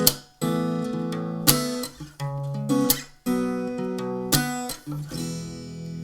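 Acoustic guitar playing the verse and opening chorus of a song with finger picking, palm muting and string slaps, clear strummed chords ringing then cut short in a rhythmic pattern, played alone.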